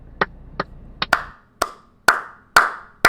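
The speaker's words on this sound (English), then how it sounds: "I'm just clapping. Just keep clapping." One person claps hands eight times, sharp and close, at an uneven slow pace, with short gaps between the later, louder claps and no speech over them.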